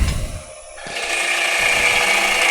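A woodturning lathe spins as a tool cleans out the middle of a bowl blank, starting with a short gritty scrape, then settling into a loud, steady whirring grind that runs on without pause.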